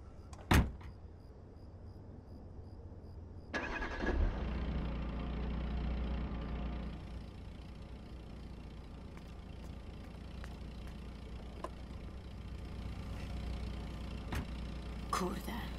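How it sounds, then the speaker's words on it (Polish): In the video game Beyond: Two Souls, a car door thuds shut and an engine starts, then settles into a steady low idle that runs under the rest of the scene. "Siadaj do środka i uruchom silnik."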